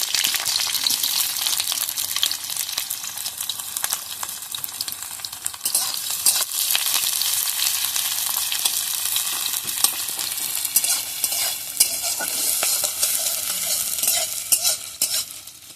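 Chopped onion, bay leaf, green chilli and spices fry in a pan, with a loud, continuous sizzle and crackle while a spoon stirs and scrapes at irregular moments, close up and with no one speaking.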